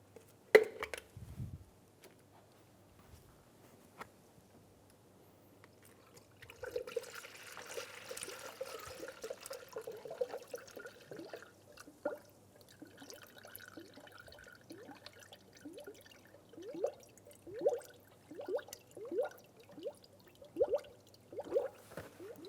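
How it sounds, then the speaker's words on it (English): Coolant pours and gurgles steadily into a funnel in the radiator of a 2010-2015 Lexus RX350, with a rhythmic glugging that grows more pronounced toward the end; no talking. "Pour the coolant."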